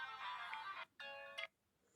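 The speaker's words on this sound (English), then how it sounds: "this was my grandpa's ringtone" LG G2 mini phone ringtone playing two bright, tonal electronic bursts in quick succession, each lasting under a second, clear and close against a quiet background.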